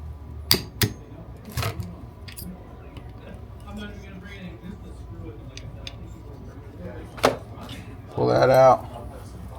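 A metal punch tapped against a rifle trigger pin during lower receiver disassembly: a few sharp, separate metallic clicks spread across the clip, close by, with someone talking between them.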